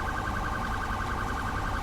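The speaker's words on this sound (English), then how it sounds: "I don't know why it's got a siren on" A police siren on a National Transport Police ARV car in GTA V, wailing in a steady, fast-cycling electronic tone that is loud and close, heard alone.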